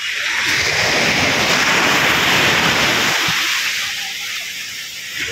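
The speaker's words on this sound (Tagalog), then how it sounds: "Isang alon, ha?" A sea wave rolls in and breaks on the shore, a loud, broad rushing swell that holds for a few seconds and then recedes into a quieter hiss.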